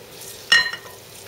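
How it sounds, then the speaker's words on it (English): Liquid is stirred into millet grain in a pot, giving one short wet swish and scrape lasting about a third of a second against quiet room tone. "I'm going to stir this around."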